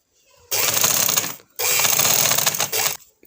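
Sewing machine stitching pleats into fabric, in two loud, steady bursts of rapid mechanical chatter separated by a short pause, with no talking.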